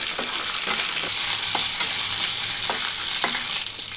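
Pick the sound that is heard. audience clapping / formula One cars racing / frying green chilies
frying green chilies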